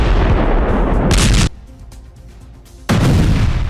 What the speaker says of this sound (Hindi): हथियार डिपो तेज धमाके के साथ तबाह होता नजर आया